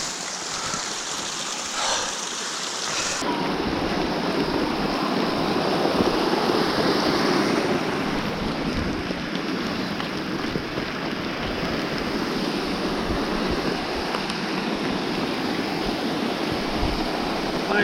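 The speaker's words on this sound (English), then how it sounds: "Nice little waterfall." Small waterfall beside a hiking trail up Mt LeConte, rushing as a steady broadband wash of falling water, loud and close, with a quieter, thinner stretch in the first three seconds before the full roar.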